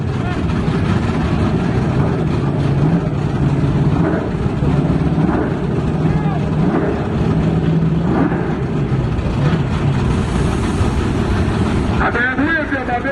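A nitrous-equipped drag racing truck called Jitterbug roars at a drag strip: loud, continuous engine noise fills the whole stretch, with people shouting and talking over it nearby.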